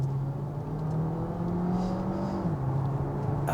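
Engine note of a DS7 Crossback PHEV accelerating in sport mode, heard from inside the car as a steady rising drone with a brief pitch drop at a gear change.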